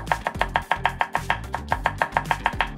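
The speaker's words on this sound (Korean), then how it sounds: "빨간색 포인트가 들어가면 예쁘니까 고추도 좀 썰어주고요." Knife chopping red chili pepper on a cutting board in a kitchen, a quick even series of about a dozen close, crisp thuds with no voices.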